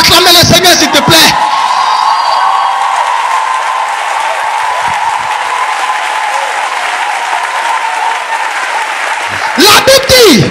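A church congregation applauding and cheering to acclaim the Lord, loud sustained clapping with whoops and shouts, framed by a preacher's voice at the start and end.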